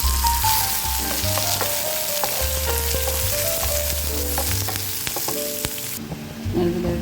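Mustard seeds crackle in a hot pan with curry leaves, onion and red chilli, giving a continuous loud sizzle dotted with sharp pops, under a soft melodic backing tune.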